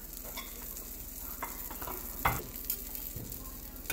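Bread browning in a frying pan for a sandwich gives a soft, steady sizzle with scattered crackles and a few sharper scraping or stirring clicks, close by, with no talking.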